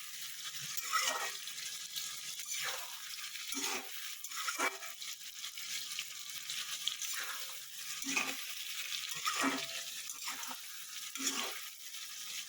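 Rohu fish pieces frying in a pan give a steady, close sizzle of hot oil throughout, with brief stirring or shifting sounds recurring every second or so and no talking.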